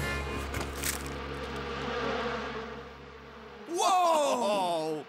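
A dense cartoon swarm of bees drones steadily for several seconds, then gives way to a louder burst of squealing animal-like cries near the end.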